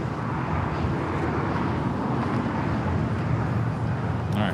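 An Air Tahiti Nui Boeing Dreamliner taxiing across runway 25 right at Los Angeles airport, a steady, loud, low engine rumble that holds constant throughout with no voices.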